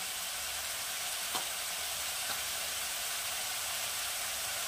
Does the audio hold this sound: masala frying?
yes